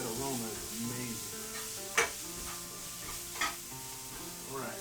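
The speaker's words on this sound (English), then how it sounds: "I'm just going to mix this up in there" Seasoning is stirred into food sizzling in a frying pan while scrambled eggs are being prepared, with a steady hiss and a couple of sharp scrapes of the utensil against the pan.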